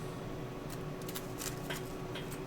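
Playing cards are shuffled at a table in a quick series of soft riffling bursts under steady background noise, with no talking.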